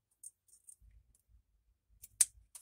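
Scissors snip paper squares for a journal page, giving a few soft, quiet clicks and one sharper snip near the end, close up in an otherwise hushed room.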